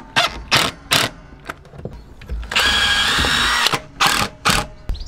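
A power drill drives 50 mm screws into wood while a bench seat and kitchen are built in a Ford Transit van conversion: several short loud whirring bursts, then one longer sustained run, close and clear.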